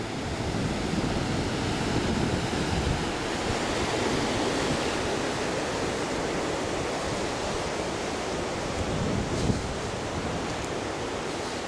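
Ocean waves and surf at a beach on Réunion at Étang-Salé, a loud continuous wash of breaking water with some wind rumble, steady and close, no voices.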